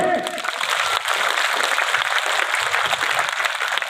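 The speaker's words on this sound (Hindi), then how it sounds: "जोरदार तालियों से" Dense, loud applause from a large crowd at a Rajput community gathering, a continuous wash of clapping lasting the whole stretch.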